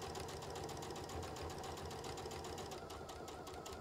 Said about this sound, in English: I'm just going to stitch a straight seam here